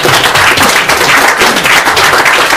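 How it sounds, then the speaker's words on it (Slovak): A room full of people applauds the new Škoda Octavia III at its 2013 Slovak market launch press conference, a loud, dense and continuous wash of clapping from start to end. "aspoň jeden potlesk pre novú Octaviu"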